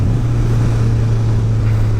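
A Suzuki Bandit 1250 motorcycle's exhaust under way, a loud, steady low drone with continuous wind rush over the microphone, no other sounds.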